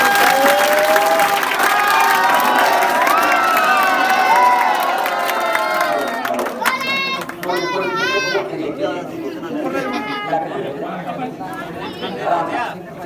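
Outdoor village gathering at a political rally in Sangrur, Punjab, with a crowd clapping and cheering over loud amplified talk, the applause fading into scattered chatter and children's voices.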